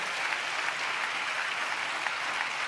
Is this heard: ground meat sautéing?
no